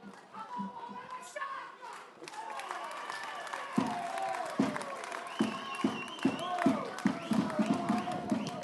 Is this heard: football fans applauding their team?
yes